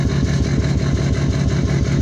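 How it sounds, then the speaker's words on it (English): A Dirtymax truck engine idles loudly and up close through an 8-inch exhaust tip, its rhythmic low rumble and exhaust pulses throbbing evenly with no voices. "that's what it sounds like with the 8-inch exhaust tip"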